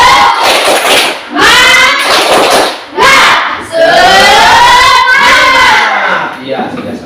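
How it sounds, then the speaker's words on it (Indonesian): A class of children standing together chants loudly in unison with rhythmic claps in a group spirit routine, several bursts of shouted voices close and energetic. "kita tepuk semangat dulu supaya bersemangat kembali ya"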